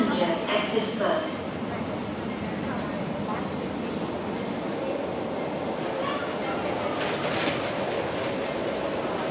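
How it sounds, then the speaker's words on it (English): A Tuen Ma Line train pulls in at Nam Cheong station platform, its steady loud rumble and wheel noise filling the clip, with announcement voices faintly underneath. "The train to Tuen Ma Line is arriving."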